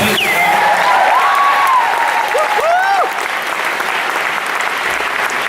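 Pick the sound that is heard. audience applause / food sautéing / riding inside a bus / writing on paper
audience applause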